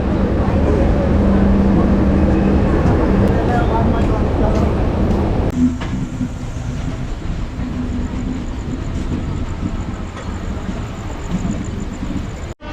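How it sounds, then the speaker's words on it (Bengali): A train pulls out of Howrah station, its loud, steady rolling rumble filling the whole stretch, with a thin high whine joining partway through. "ট্রেন আমাদের হাওড়া স্টেশন থেকে বেরোচ্ছে"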